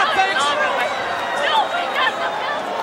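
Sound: wrestling arena crowd murmuring

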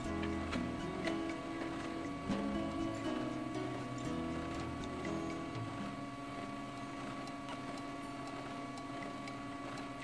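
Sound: toner printer feeding cardstock

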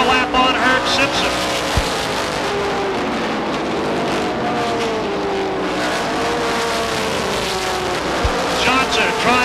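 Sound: stock cars racing at Beech Ridge Motor Speedway

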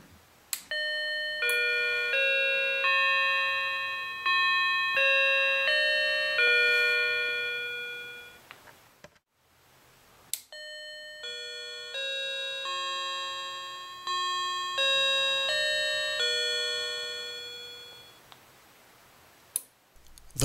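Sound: wireless door entry alert receiver chime

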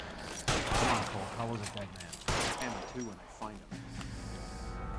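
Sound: gunfire in L.A. Noire video game

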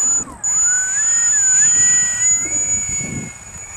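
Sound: radio-controlled foam glider airplane flying under motor power

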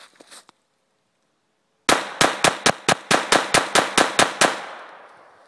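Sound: Smith & Wesson M&P 22 pistol being fired

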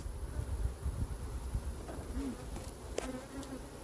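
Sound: bees buzzing at a beehive

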